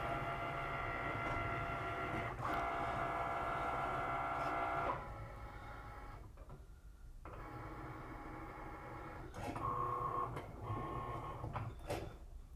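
A vinyl cutting machine running a cut: a steady mechanical whir and hum with shifting tonal motor whines, brief pauses, and a short higher tone near the end, faint and without talk.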